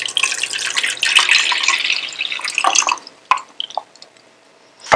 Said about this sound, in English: Going to add about 2 cups of water.